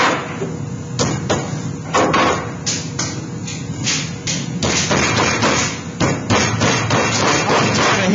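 Repeated sharp hammer blows on sheet-metal duct seams while a cheek and wrapper are joined on a square-throat ogee offset fitting; irregular clustered strikes ring out close and loud, with no talking.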